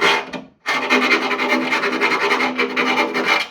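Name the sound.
filing and deburring drilled holes in spot lamp brackets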